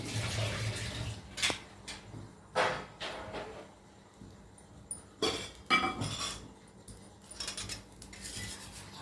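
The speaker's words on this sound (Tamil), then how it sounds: "அடுப்பில் கடாய் வச்சுக்கலாம்." A kadai is set on a home kitchen stove with a few sharp metallic clanks and knocks, separated by quiet gaps and heard close by.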